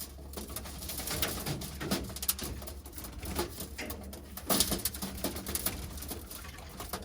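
Young Birmingham Roller pigeons coo steadily at close range in a loft, mixed with wing and foot shuffling and a busy patter throughout, with no talking.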